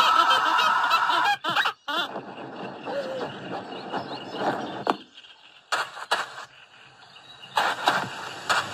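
Loud goose-like honking calls from a bird in a video game, repeated in bursts with brief gaps, alongside chirpy insect-like game sounds.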